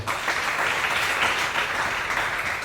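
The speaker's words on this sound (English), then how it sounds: "A clap for the President." Dense, continuous clapping from a large crowd honouring the President at a launch ceremony in Uganda, even and loud throughout the short stretch.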